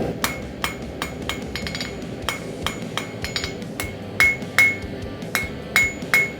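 Hand hammer blows on hot metal being forged flat, then worked round, in a blacksmith demonstration; sharp ringing strikes come in irregular bursts, some near and loud, over a steady low roar from the forge.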